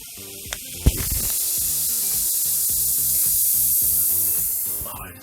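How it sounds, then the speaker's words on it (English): Dust powder fizzes and hisses steadily inside a Magic Mixies toy cauldron, a loud continuous effervescent spray that runs for several seconds after a couple of short taps. "that fizzing sound. It's like Alka-Seltzer. Look, it's just bubbling."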